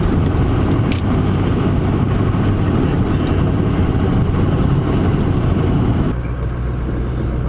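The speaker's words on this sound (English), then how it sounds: "I'll grab my truck and head back to the farmhouse." A truck driving on the road, its engine and road noise forming a loud, steady, unbroken rumble that runs the whole way through and shifts slightly in tone near the end, with no voices.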